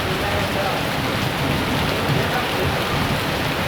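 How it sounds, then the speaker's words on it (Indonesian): Heavy monsoon rain pours onto a balcony floor near Borobudur during a downpour with strong wind, a loud, dense and unbroken hiss of drops close by. "Hujan memang lebat sekali dan lantai Balkon Des jadi"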